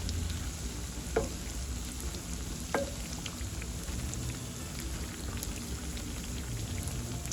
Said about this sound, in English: I will fry it on both sides until nice and golden